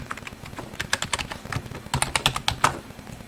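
Rapid, uneven keystrokes on a computer keyboard as a password is entered, close and crisp clicks in bursts with brief pauses, no talking.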